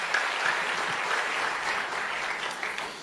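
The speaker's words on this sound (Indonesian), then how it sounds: "Boleh tepuk tangannya di extend buat tim praise and worship kita." A church congregation applauds the worship team, a steady, dense wash of many hands clapping together that holds evenly from start to finish, with no voices rising above it.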